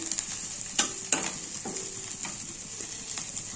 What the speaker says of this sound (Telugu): స్టవ్ పైన ప్యాన్ పెట్టుకొని ఇలా తాలింపు వేసుకోవాలి